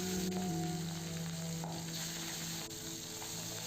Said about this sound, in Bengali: এগুলোকে খুব সাবধানে উল্টিয়ে ভেজে নিতে হবে